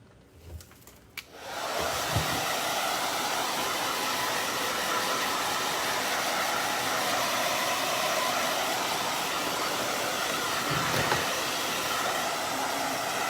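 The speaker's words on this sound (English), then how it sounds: "I'm gonna have to blow dry these just a little bit." A blow dryer dries paint on cat-shaped yard decorations. After a few quiet clicks and handling sounds, it switches on with a loud, steady whooshing roar that continues unbroken to the end.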